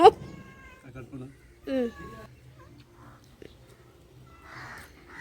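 A black cat meows during a home cooking session, with one drawn-out cry among fainter calls and soft voices in the background.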